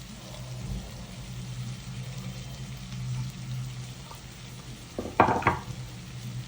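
Long-sliced onions fry with bitter gourd in a pan, a low steady sizzle broken by a few sharp stirring scrapes and clatters toward the end.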